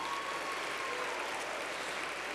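Steady, dense applause from a conference audience at a closing plenary session at Northeastern University, saluting mentors, skill session leaders and panelists, filling the room evenly without pause.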